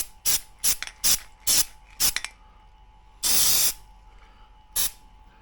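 Aerosol spray in short bursts under a 2017 VW Tiguan: five quick hisses, a longer steady spray, then one final short burst, loud and close.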